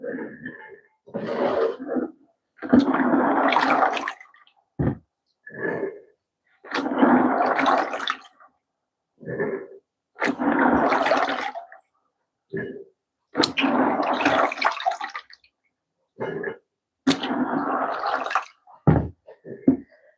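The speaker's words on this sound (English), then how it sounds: "Now you rinse like this." Water running and splashing in repeated bursts while a plate is rinsed by hand in a home kitchen, fairly loud and close, alternating with short pauses.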